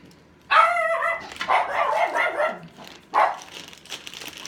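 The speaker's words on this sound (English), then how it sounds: "my dog's freaking out because apparently my husband's come inside" A dog barks and yips excitedly in a home, a quick cluster of loud, close barks followed by a few more after a short pause, with no talking over it.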